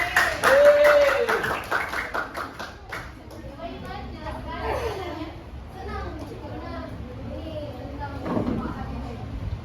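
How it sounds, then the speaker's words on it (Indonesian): Students in a classroom group guidance lesson give a short burst of rhythmic clapping for a classmate, close and sharp for about three seconds, followed by children's chatter and voices. "Tepuk tangan dulu buat Intan"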